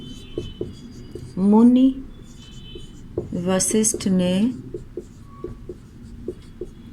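Pen scratching out an answer by hand during a Class VI Hindi lesson, a steady soft scribble of short strokes running under a teacher's speech.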